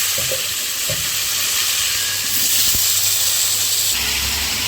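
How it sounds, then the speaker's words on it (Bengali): Potatoes fry in hot oil with a constant, fairly loud hissing sizzle, a few soft clinks and scrapes of stirring, and a brief low knock partway through. "আলুগুলো এখন ভেজে নেব তেলে লাল লাল করে আলুগুলোকে ভাজবো"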